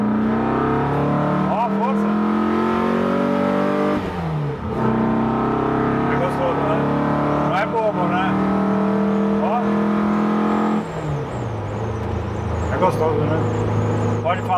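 A naturally aspirated 2100 engine in a German Look VW Beetle (Fusca) revs loudly and close, climbing and dropping through several pulls with a deep throaty roar, while people talk over it.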